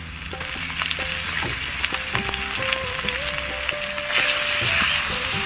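Onion paste and chopped onion frying in a pan for a home-cooked Christmas meal, a loud steady sizzle with scraping stir strokes and tonal clinks running throughout.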